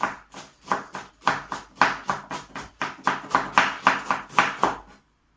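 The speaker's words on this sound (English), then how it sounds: "Just chopping like this, small." A knife chops cabbage rapidly on a cutting board, a steady run of about twenty crisp taps close by, then stops.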